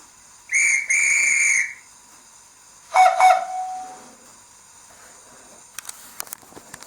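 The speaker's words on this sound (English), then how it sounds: "we get the guard's whistle followed by the driver acknowledging with a blow of the whistle" On a model locomotive sound system for a DJH Ivatt Class 2, a shrill two-part guard's whistle blows, then the driver's lower whistle answers with two quick blasts and a trailing tone, followed by faint clicks.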